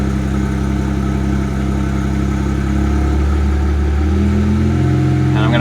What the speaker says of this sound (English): make sure that I can put the car into drive, let the rear end turn over, and we don't get any funny noises